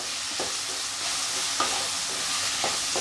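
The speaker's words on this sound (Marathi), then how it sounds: "आता पुन्हा एकदा छान असं मिक्स करून घेऊया" Roasted potatoes with salt stirred in a pan for sabudana khichdi, a soft steady sizzle broken by several brief scraping strokes of a spoon, close and alone.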